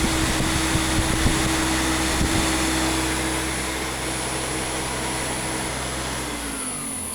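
New 1.1 kW Kharkiv electric motor fitted with a grinder pulley, running at 3600 rpm from a frequency converter; a loud, steady whine and hum with a few light knocks early on that eases slightly as it continues.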